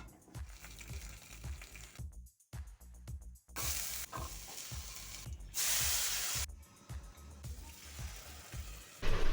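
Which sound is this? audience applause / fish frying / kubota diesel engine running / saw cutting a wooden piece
fish frying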